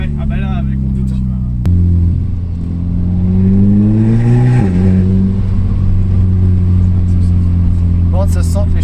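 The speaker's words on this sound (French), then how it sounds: "ça se sent que l'échappement est libéré quand t'accélères. Ça souffle" An Audi Quattro with a stage 1 tune at 230 hp and a freed exhaust accelerates with a loud engine note that climbs, then drops back to a deep rumble, while people talk inside the car.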